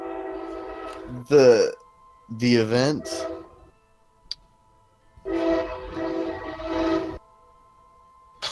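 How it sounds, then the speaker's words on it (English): A train horn sounds outside during a tabletop role-playing game session, sustained tones running under and between people talking at the table. "train is interrupting"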